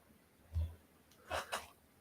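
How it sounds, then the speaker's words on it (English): A person sneezes indoors during a relaxed chat, with a soft low burst followed by two sharper, breathy sneezes close to the microphone. "I have no idea why I'm sneezing so much."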